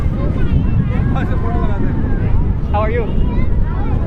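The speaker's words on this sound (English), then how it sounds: "It is really, really windy." Strong wind at Juhu Beach, Mumbai, roars and buffets the microphone in a continuous low rumble while people talk and greet each other over it.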